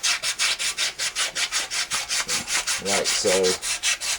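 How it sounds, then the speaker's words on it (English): Sandpaper rubbed back and forth around the rusted shaft of an AC condenser fan motor, a steady run of about twenty quick scraping strokes, close and fairly loud; a short spoken remark near the end. "get you some sandpaper. and just clean around the shaft"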